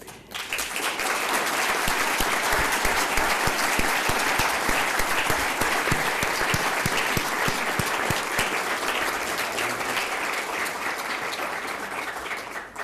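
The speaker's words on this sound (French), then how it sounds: "Je voudrais qu'on ait un moment d'hommage et un applaudissement" A large audience in the French National Assembly gives sustained applause in tribute to a courageous man, loud dense clapping that swells quickly and holds steady for over ten seconds before easing slightly at the end.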